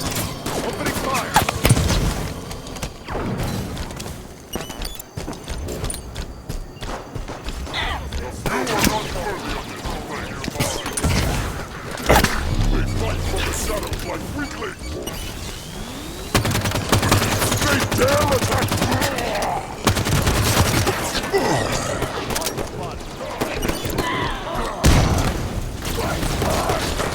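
Sustained gunfire from a Halo 5: Guardians firefight, with rapid bursts, heavy thumps and booming blasts layered over game music and shouted voices, loud and chaotic throughout.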